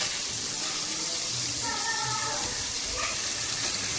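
Rohu fish pieces frying in a pan, a steady close sizzle with faint bubbling and a few light clinks of stirring, continuous throughout.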